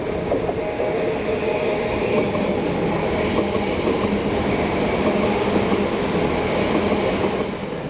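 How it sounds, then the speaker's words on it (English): Elizabeth line train pulling into a London station: a loud, steady rumble of wheels on track with faint clatter and a slight squeal, continuous and close throughout. "Trains coming in now."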